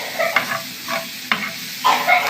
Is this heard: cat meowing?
no